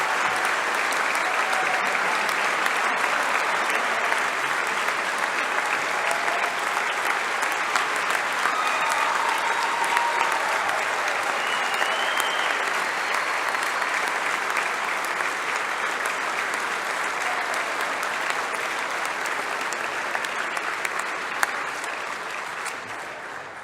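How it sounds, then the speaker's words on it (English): Sustained, dense applause from a large audience of faculty, staff, friends and family honoring degree candidates at a December graduation recognition ceremony, steady and full for over twenty seconds before tapering slightly at the end. "Thank you, faculty, staff, friends, and family, for your rousing applause over these degree candidates and their accomplishments"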